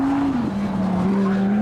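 Lamborghini Gallardo on a race track on cold tyres, tyres squealing in a sustained high wail that shifts pitch, layered over a loud, close engine roar.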